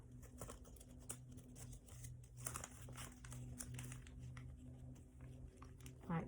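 Paper for a 30cm red and white striped pinwheel is folded in half, a steady close crinkling and rustling that runs throughout over a low constant hum.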